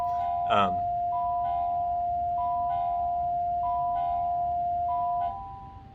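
A bell tone sounds repeatedly at a steady, slow pace, each ring sustaining and overlapping into the next, with one brief louder accent near the start, fairly clear over a low background hum.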